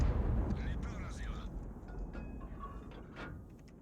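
Tank cannon fire in the online game World of Tanks, heavy low booms and rumbling impacts rolling through a continuous dense battle din, with a sharper report near the end.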